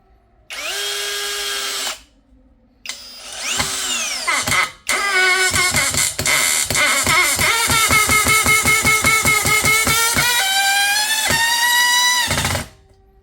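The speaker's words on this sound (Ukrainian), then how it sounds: "Беремо чорний саморіз тепер. Він тонший, але длинніший. 12 см. Пробуємо закрутити його." A ProCraft PA18LiBL brushless cordless screwdriver drives a thin 12 cm black screw, with short whirring starts followed by a long run of rapid ratcheting clicks under a rising motor whine, loud and close.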